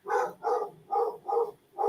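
A dog barking in a neighbouring house, five rhythmic barks in quick succession, faint and somewhat distant, with no talk over them.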